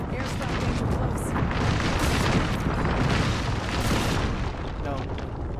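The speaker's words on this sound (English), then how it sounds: "Airstrike danger close." An airstrike in a shooter game lands danger close, a continuous loud rumbling blast wash that fills the whole moment, with no talk over it.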